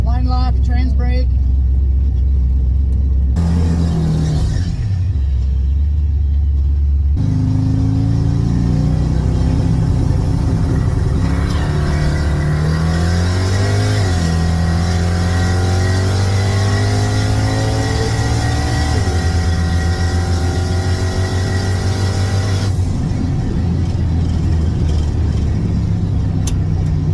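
A drag racing truck on low boost, back at the track after a valve fix, idles, then roars off the line with a long, loud rising engine pull through the gears before easing off, close and dominant throughout.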